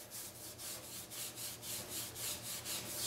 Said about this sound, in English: Scrub the excess adhesive off of there.